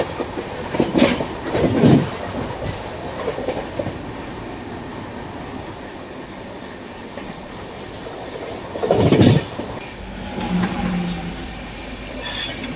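The Janmabhoomi Superfast Express races along at about 115 km/h, its wheels and carriages giving a steady rolling rumble with occasional louder clattering swells as it passes a station.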